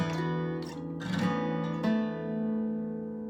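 Nearby guitar playing from a song: a strum across the open strings followed by ringing notes shaped with slides, hammer-ons and pull-offs, clean and alone without talking.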